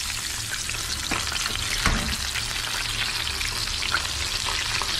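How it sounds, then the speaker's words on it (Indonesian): Food frying in hot oil, potatoes among the ingredients, in a home kitchen during a Ramadan meal: a loud, continuous close sizzle and crackle with occasional stirring scrapes, without talk. "Kita goreng dulu ya, beres ya."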